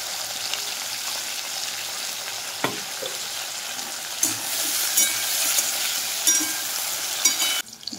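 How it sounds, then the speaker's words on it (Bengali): Fish shallow-frying in hot oil with a little salt, a steady close sizzle and crackle throughout, with a few brief clinks and stirring knocks from the pan. "একটু লবণ দিয়ে আমি ভেজে নিচ্ছি"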